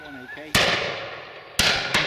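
Shotgun shots fired at pheasant or partridge during a driven game shoot: two sharp, loud blasts about a second apart, then a third softer report, with faint voices in between.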